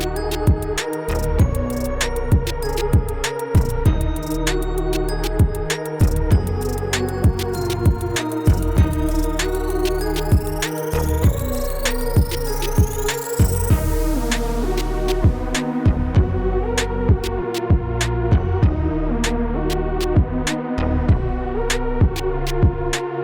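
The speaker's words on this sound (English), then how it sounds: "So now that we've audibly heard the pump change tones" An electric fuel lift pump, an AirDog DF-165-5G on a Powerstroke diesel, hums steadily with a low throbbing drone, punctuated by regular sharp clicks, and its tone shifts partway through.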